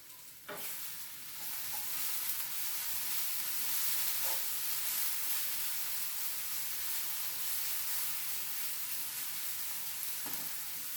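Leeks fry in a pan with a steady, dense sizzle and hiss that holds at an even level, close by, with a couple of light clinks of utensils and no talking.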